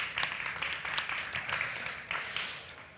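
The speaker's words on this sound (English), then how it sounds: "Please, an applause for Professor Niederberger." An audience at an AI summit award ceremony applauds, a scattered, fairly faint patter of clapping with individual claps standing out and the sound thinning toward the end.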